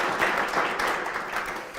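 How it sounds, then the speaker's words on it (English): A banquet audience at a Rotary roast and recognition event applauds its sponsors, a soft, moderately dense patter of clapping at some distance, lasting under two seconds. "Let's give them a round of applause."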